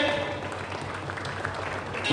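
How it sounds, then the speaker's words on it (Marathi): Brief, fairly faint audience applause at an honoring ceremony, a dense patter of clapping lasting about two seconds with a voice speaking over it. "सर्वांनी जोरदार टाळ्या वाजवायच्या."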